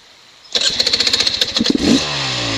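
A Beta 300RR two-stroke dirt bike engine starts up and runs near and loud, firing in a rapid pulsing rhythm, then blips its revs higher before settling to a steady run.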